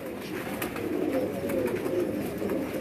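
Pigeons in a fancier's loft give a steady, close run of low throaty coos over light background noise.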